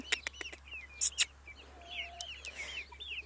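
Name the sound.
chickens and roosters clucking, including a Brahma hen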